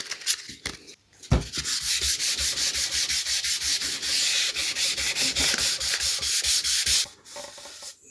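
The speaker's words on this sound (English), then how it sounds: "I'll just try and very carefully sand out where that divot is." Wet sanding by hand on the finish of a 1963 Biennophone Verbier 6303/03-HE Swiss radio cabinet, with fast, steady back-and-forth rubbing strokes, close and loud, lasting several seconds before trailing off, with no talking.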